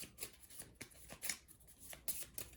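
Cards from a discard pile being shuffled during a Legendary Buffy the Vampire Slayer deck-building board game, close and quiet, a run of short crisp riffling snaps and slides in uneven bursts.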